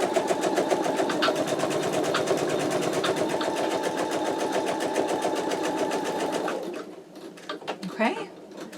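An embroidery machine stitches out a long pocket on an in-the-hoop wallet, its needle hammering in a steady rapid rhythm up close before stopping abruptly near the end, leaving faint clicks and handling noise.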